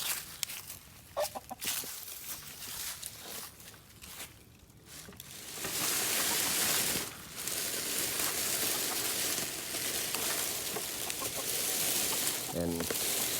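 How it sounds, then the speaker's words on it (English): Chickens cluck and squawk excitedly as a moveable coop is dragged along by rope, with scraping and rustling noise building midway and loud hauling sounds continuing to the end. "And these chickens are relatively new to this, so they freak out a little bit."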